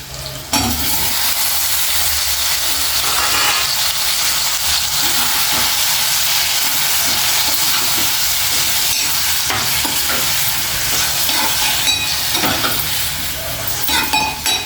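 Tomatoes sizzle loudly and steadily in a hot pan with a pinch of turmeric for cashew tomato curry, a dense continuous frying hiss with occasional stirring, no talk.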